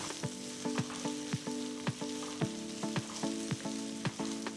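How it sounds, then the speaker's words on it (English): Ginger garlic paste, onions and slit green chilies sizzle steadily in a pot while a spoon stirs them, tapping the pan in a regular rhythm of about two strokes a second, close and continuous. "So mix the ginger garlic paste in."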